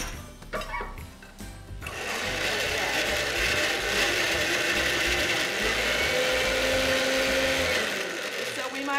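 A countertop blender whirs steadily as it purées a heart-healthy snack dip, starting after a few clicks and handling sounds and running loud and continuous to the end.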